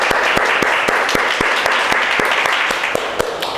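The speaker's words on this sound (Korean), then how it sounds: "감사와 영광의 박수를 한 번 더 올려드리겠습니다" A congregation at Singapore Full Gospel Church applauds after Sunday worship, a dense wash of clapping punctuated by regular, distinct loud claps or beats roughly every quarter second, steady throughout.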